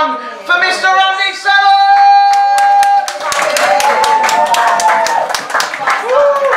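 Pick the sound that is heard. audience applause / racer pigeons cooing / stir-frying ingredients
audience applause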